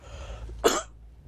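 A single sharp cough rings out close to the microphone, preceded by a faint low hum and followed by quiet.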